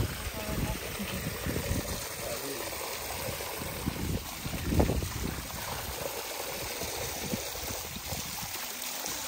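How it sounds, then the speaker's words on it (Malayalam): Rushing mountain stream near Kudajadri in cold, breezy weather, a steady broadband wash of flowing water holding close and continuous throughout, with a brief louder surge midway. "നല്ല അരുവിയുടെ ഒച്ചയൊക്കെ ഉണ്ട് കേട്ടോ"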